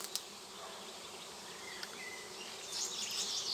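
A steady insect buzz fills the air, a newly swarmed honeybee colony droning together at a distance in an apiary, swelling slightly louder toward the end.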